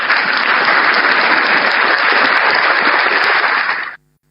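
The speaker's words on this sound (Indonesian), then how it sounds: "Buat Bang Wendy, saya kasih aplaus." Loud, dense applause from a crowd, steady clapping at close range for about four seconds before it stops abruptly, with no voices over it.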